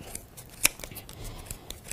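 Sharp scissors snip through thick layers of yarn while making a pom pom garland, giving a series of quick, close crisp cuts with small clicks.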